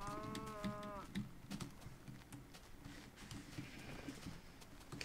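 A sheep bleats once in Minecraft, a short wavering call near the start, then fades into a busy backdrop of game noise and clicks.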